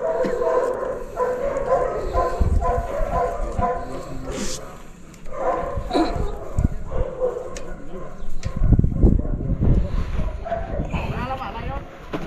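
A dog gives a few short barks and yips amid ongoing conversation, with people talking over most of it.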